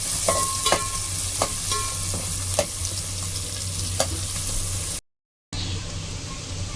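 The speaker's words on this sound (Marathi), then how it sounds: "आपण आता कांदा घालून घेऊ. कांदा छान व्यवस्थित परतून घेऊ." Onion sautés in hot oil for Kolhapuri-style chicken, a dense, loud sizzle with scattered sharp clicks of a spatula against the pan and a short silent gap before the frying resumes.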